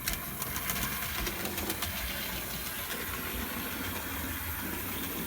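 A McDonald's 2-6-0 On30 model train engine runs on its track, giving off a faint, steady whirring mechanical hum with light rhythmic clicking of the wheels.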